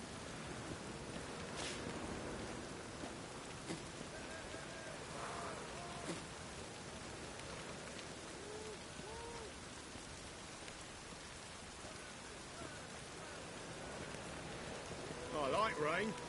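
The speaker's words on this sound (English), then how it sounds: "I like rain. Keeps the rogues indoors." Steady rain falls in The Witcher 3, a soft constant patter throughout with faint scattered sounds and a brief louder stir near the end.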